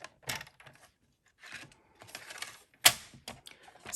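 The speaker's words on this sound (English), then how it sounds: "So open up the arm and score between the cut lines at 7." A scoring tool drags along cut lines on card stock, giving short scratchy strokes and taps separated by quiet gaps, close and fairly faint, with one sharper click near the end.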